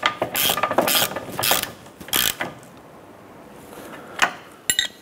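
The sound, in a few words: ratchet snugging nut and bolt on Chevrolet Impala control arm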